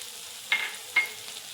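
Mixed vegetables are tossed in oil in a pan, with two soft scraping stirs that rise briefly over a steady, faint sizzle.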